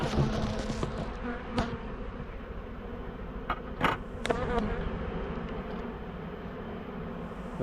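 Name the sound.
honeybees buzzing in an opened farm hive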